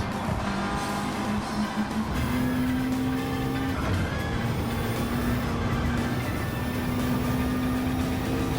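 Race car in a racing video game screams along the longest straightaway near top speed, a loud, steady high-revving engine drone with a pitch that climbs after a brief shift, continuous throughout.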